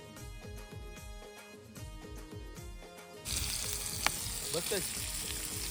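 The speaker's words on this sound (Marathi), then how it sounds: "एकीकडे फ्राय चालू आहे एकीकडे तंदुरी चालू आहे" Food sizzles and fries steadily at an outdoor gathering of friends, a bright continuous hiss that takes over after a stretch of background music, with a faint voice underneath.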